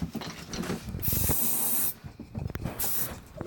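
Rust Flash flammable aerosol sprays onto a tyre rim in two loud, close bursts, one long hiss of about a second and a shorter one after, with clanks and handling noise between them.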